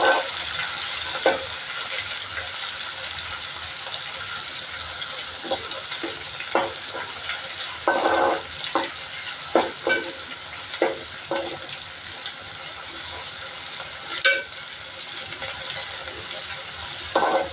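Chopped tomatoes frying with softened onion in a pan give a moderate, steady sizzle broken by bursts of spatula stirring and scraping, close and without talk.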